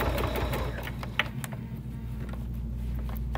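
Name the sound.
sewing machine stitching binding onto a bag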